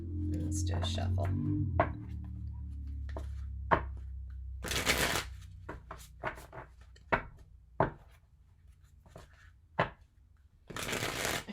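Cards are shuffled and riffled close up in several bursts, separated by sharp taps and brief pauses, with faint quiet speech at the start.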